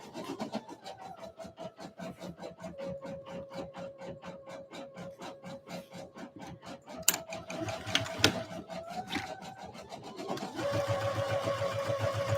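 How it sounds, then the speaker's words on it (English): A sewing machine runs steadily with a fast, even mechanical rattle, briefly pausing and shifting to a denser, busier whir near the end. "I love the sound of my sewing machine."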